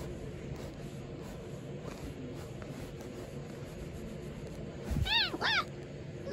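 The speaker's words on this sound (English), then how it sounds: "Oh, it's a kitty." A house cat gives two short, rising meows close by near the end, after a stretch of low background noise.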